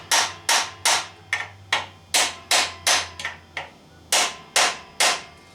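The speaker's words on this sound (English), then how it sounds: "Just a couple whacks on each corner as you're doing this" A hammer strikes the corners of a differential part during a GM 9.5 14-bolt axle rebuild, a series of sharp metallic whacks in quick, slightly irregular succession, loud and close, each ringing briefly.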